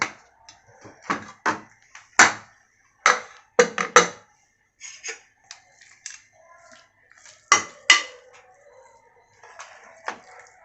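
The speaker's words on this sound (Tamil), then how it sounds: "குக்கர் திறந்து பார்த்துடலாம்" Metal lid of a pressure cooker clanks and scrapes as it is opened after cooking carrot halwa, a series of sharp, close knocks in irregular bursts with quiet gaps between.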